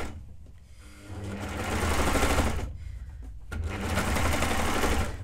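A domestic sewing machine stitches kids' overalls in two sustained bursts of rapid mechanical whirring, separated by a short pause, loud and close with no talk.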